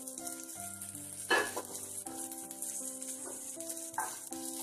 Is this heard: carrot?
yes